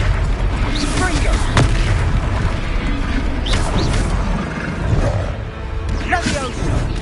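Confringo blasting spell explosions in the Hogwarts Legacy video game: repeated booming blasts and pops over a dense, loud combat soundscape, with voices shouting spell names throughout.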